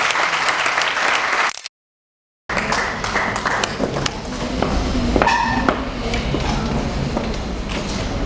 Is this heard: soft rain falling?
no